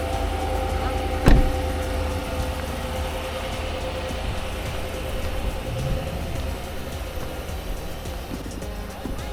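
A truck engine idles steadily after a brief clunk from the key turn, a low, continuous hum heard close by with no voices over it.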